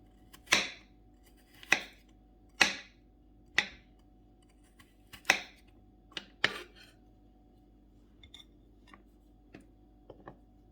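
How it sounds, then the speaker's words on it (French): Garlic cloves sliced into rounds with a knife on a board, giving a series of sharp, distinct chops in an irregular rhythm, loud at first and then fainter and more spaced, with no talking. "Là j'ai pris l'ail que je vais couper en rondelles."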